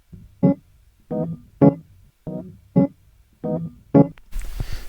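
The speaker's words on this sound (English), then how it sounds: "So first off we have these keys." Chopped keys loop from a hip-hop beat: short, evenly spaced stabs of a keyboard sample repeating in a steady pulse, fairly loud and alone, cut off by a brief burst of noise at the end.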